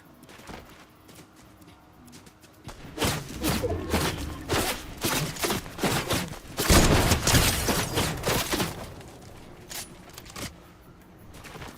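Rapid bursts of gunfire crackle in a Fortnite Star Wars solo match, a dense run of sharp repeated shots that swells loudest midway, with no talking.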